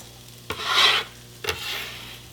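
Finely chopped shallots go into a hot pan for a rice pilaf, giving two short scraping hisses about a second apart, each trailing off into a softer sizzle. The sound is close, with no talking.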